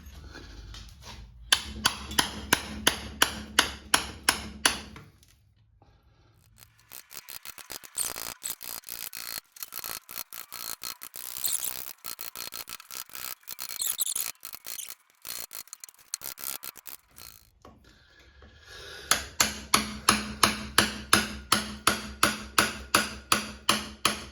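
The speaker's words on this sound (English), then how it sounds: "I'll break the flange off first" A hammer knocks the reinforced flange off a plaster mould piece, with sharp rhythmic blows at the start and end around a stretch of scraping, grinding breakage and crumbling debris.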